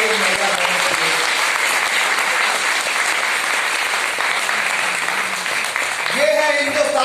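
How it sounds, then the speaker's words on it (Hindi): Loud, dense audience applause at a budget discussion with women entrepreneurs, continuous clapping from a large crowd with a few voices rising near the end. "जोरदार तालियां हमारी महिला बहनों के लिए।"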